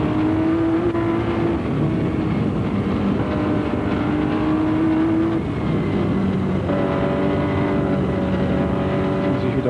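Onboard engine of the 1977 Martini Porsche 936 race car at Le Mans, held in third gear through the Porsche curves: a loud, steady, close engine drone with shifting pitch and no break, alone throughout.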